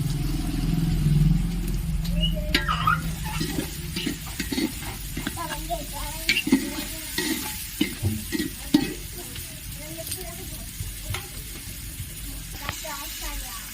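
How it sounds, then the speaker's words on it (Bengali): Onion and tomato fry in a pan, a steady sizzle under repeated stirring and scraping, with clattering spoon strokes growing more frequent toward the end. "ভালো করে ভেজে নেবো, পেঁয়াজটা একটু লাল লাল করে ভেজে নেবো।"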